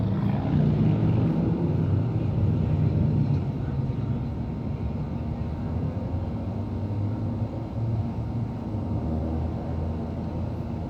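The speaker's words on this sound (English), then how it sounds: "Downtown Milwaukee, sights and sounds, Saturday night." A steady, dense roar of traffic and engines fills the Saturday night air in downtown Milwaukee, with a low rumbling drone that swells slightly at the start and stays constant.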